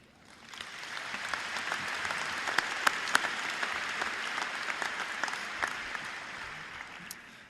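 A large graduation convocation audience at MSU applauds, the clapping swelling up quickly from quiet into a broad, steady roar of many hands that holds for several seconds and begins to ease toward the end.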